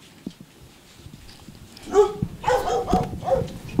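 Dogs at a kennel housing Akita Inu, Siberian Huskies, Boerboels and Labradors bark and whimper close by, a few soft yips early, then a louder burst of barking and whining over the last two seconds.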